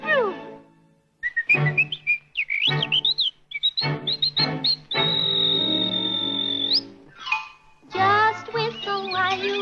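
The tune whistled during a Christmas show stage performance, with a long steady held note in the middle, set among bursts of sung or voiced phrases and short gaps.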